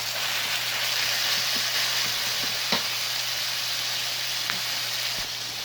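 Ground meat fries in a pan with a loud, steady sizzle and crackle heard up close, with a few light stirring taps and no talking.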